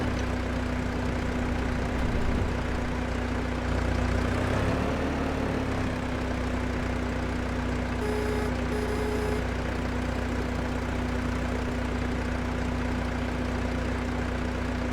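A tractor engine in Farming Simulator 25 idles steadily with a low, constant drone and a faint tonal hum, unbroken throughout with no other sounds.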